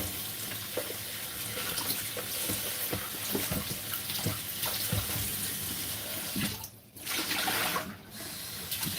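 Tap water runs steadily and close into a sink while food is rinsed, a continuous gushing stream with two brief interruptions near the end and no speech.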